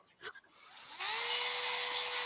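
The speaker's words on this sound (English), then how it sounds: "I've just got just a small sanding bit in the Dremel" A couple of faint clicks, then a small rotary tool whines up to a steady, high-pitched buzz that continues as it grinds against a surface.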